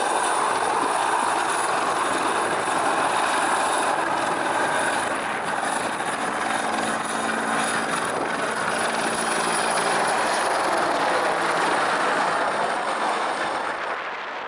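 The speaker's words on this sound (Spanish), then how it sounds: "Es el helicóptero." Helicopter hovering during a mountain rescue evacuation, a loud, steady rotor and engine roar that stays close and constant throughout, with no speech.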